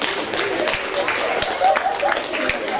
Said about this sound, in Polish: Wielkie brawa dla waszego zespołu.